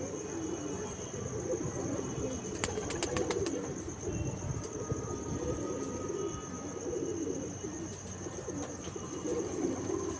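Pigeons kept at home coo steadily in a low, throaty murmur, with a faint whirr of wings partway through and an insect-like hum in the background, and no one talking.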